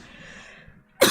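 A single short cough bursts out at the very end, loud and close, after a quiet stretch of faint background hum.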